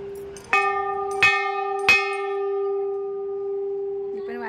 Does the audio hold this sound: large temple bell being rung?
yes